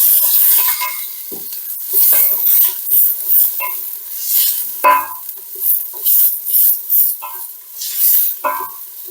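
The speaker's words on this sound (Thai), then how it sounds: "หอมหัวใหญ่ของเราผัดมาจนหอมแล้วนะคะมีกลิ่นแล้วนะคะ" Sliced onions sizzle in hot oil in a fast-heating pan, with bursts of bright crackling and irregular scraping stirs coming and going, close and clear without speech.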